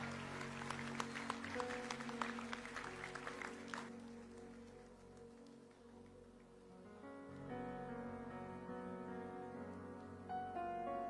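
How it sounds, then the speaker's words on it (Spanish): Applause from a church congregation at a Sunday service closing a children's congress, a dense clatter of clapping for the first few seconds that fades into quieter room sound with sustained music tones underneath. "Denle un aplauso al Señor."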